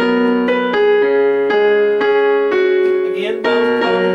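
A piano plays a short phrase from a song, evenly spaced struck notes ringing into one another, close-miked and alone.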